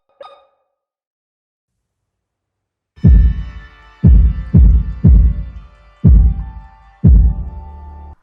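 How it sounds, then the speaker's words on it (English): Heavy, booming heartbeat of a statue heard through a stethoscope in the horror game Tormented Souls: six deep thumps at uneven spacing with a resonant ringing tail, preceded by a brief click and silence. "use a stethoscope on this statue to hear its heartbeat"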